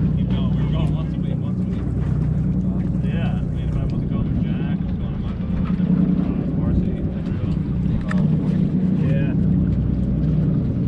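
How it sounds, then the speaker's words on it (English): A steady low electric trolling motor hum drones continuously on a fishing boat alongside water and wind noise, unchanging throughout. "you've got the trolling motor going in the right direction"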